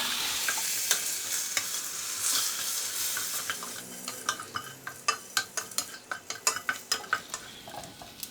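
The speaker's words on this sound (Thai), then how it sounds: "ใช้น้ำทอดอย่างนี้เลยครับ ไฟไฟกลางๆครับทอดไปเรื่อยๆครับคอยหมั่นคนให้กุนเชียงเขาร้อนทั่วๆกันครับ" Chinese sausage fries in water in a pan over medium heat under a quiet bubbling sizzle. Sharp utensil scrapes and taps from stirring come in an irregular, increasingly frequent run close by.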